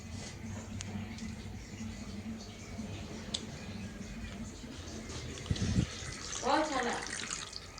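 Freshly cut cauliflower, radish, carrot, pumpkin and bottle gourd are rinsed in water, with quiet running and trickling water and a burst of splashing and sloshing near the end, fairly faint overall.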